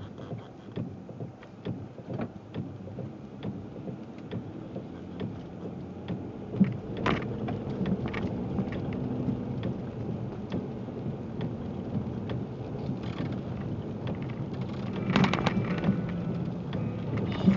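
Steady outdoor rain hisses throughout during a thunderstorm, with low rolling thunder rumbling underneath and a few sharper cracks and drops standing out; no one speaks.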